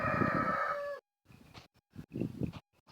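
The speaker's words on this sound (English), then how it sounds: "The chickens and the sheeps and the donkeys, they've all been making noise this morning" On a morning farm at Glen Eden, a rooster lets out a loud, close crow, followed by scattered softer clucks and rustling from chickens.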